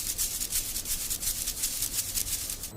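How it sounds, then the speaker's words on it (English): A vibrating sieve in a factory filtering fine eggshell powder gives a close, rhythmic swishing rasp pulsing several times a second, steady and unbroken. "The fine powder passes through a vibrating sieve for filtering."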